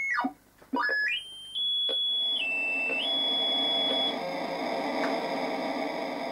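Electronic beeps and sliding tones from a metal detector in the Commodore 64 game Pneumatic Hammers: quick descending chirps, then sustained stepped synth tones over a steady hiss, loud and alone.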